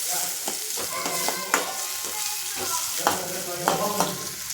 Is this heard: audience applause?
no